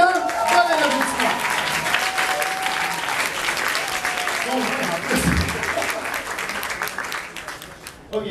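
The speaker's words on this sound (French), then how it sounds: "Bon applaudissement." An audience applauds a guest on a French-language talk show about YouTubers, a loud sustained burst of clapping and crowd noise lasting several seconds with voices talking underneath, tapering off near the end.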